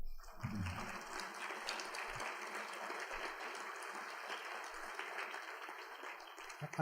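Sustained applause from a large audience at an evening keynote event in Denver, a steady dense wash of clapping lasting several seconds with no talk over it.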